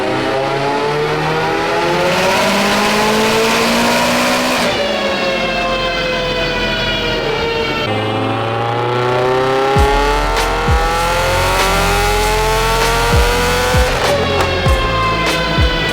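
Stock-engined Mitsubishi Evo X running at 40 psi of boost on a dyno, very loud and close, revving up again and again with rising tones, settling briefly and climbing once more, with sharp pops between pulls.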